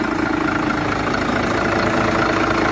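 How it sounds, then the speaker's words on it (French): A French-registered bus converted into a camper idles with a steady, loud, even engine rumble that continues unbroken from start to finish, with no talking. "Quand même un beau moteur"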